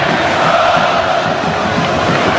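A loud, sustained roar from a packed college football stadium crowd at a Texas Longhorns at Florida Gators game, continuous and dense throughout with no break.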